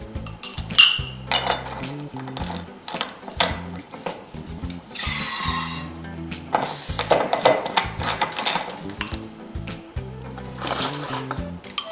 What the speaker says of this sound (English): I'm using a pint siphon, so I want to use two charges.